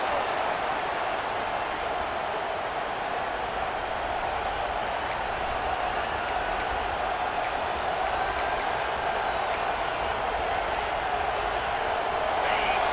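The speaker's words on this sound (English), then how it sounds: "Decibels rising as the crowd gets behind this defense on third down." Stadium crowd in the video game College Football 26 roars on a third-down defensive stand, a dense, steady wall of cheering that holds loud throughout, with scattered whistles and shouts on top.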